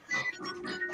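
A pig oinks in a video game, a short pair of nasal grunts, close and clear, over faint game music.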